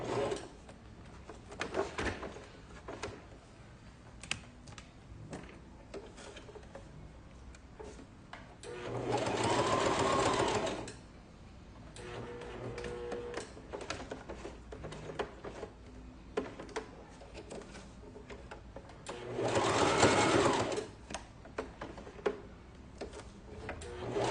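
A sewing machine stitches a small dad's pouch with a little necktie, running in two loud sustained bursts separated by quieter handling clicks and shuffles, close by with no talk.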